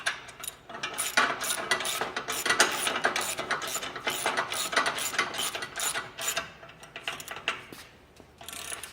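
Rapid ratcheting clicks from a 9/16 socket wrench tightening a bolt on a deck safety handrail, close and continuous in quick uneven bursts for about nine seconds.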